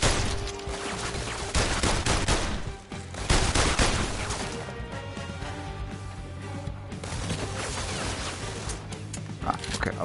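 Gunfire in the VR shooting game VR Worlds on PS4, dense bursts of shots with crashing impacts filling the stretch almost without pause, loud and close, with speech mixed in.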